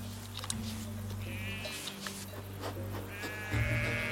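A flock of sheep bleats in the Pyrenees, calls rising and overlapping against a steady low rumble, with a louder, closer bleat near the end.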